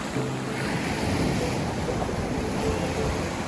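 Sea waves wash steadily onto the shore at Ariyaman Beach near Rameswaram, a broad continuous roar of surf with some wind noise, loud and close, with no talking.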